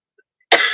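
A single sharp cough bursts out after a near-silent stretch, close and loud, with a brief rough tail trailing off.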